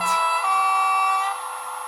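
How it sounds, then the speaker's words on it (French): A two-tone horn sounds high and low together, loud and close, holding for over a second before tapering off. "donc ça c'est le klaxon aigu et basse"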